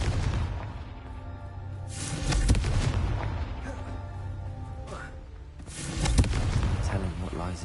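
The Confringo blasting spell exploding in Hogwarts Legacy: loud booming bursts arriving in separate waves, each a broad crash that fades out, with voices between them.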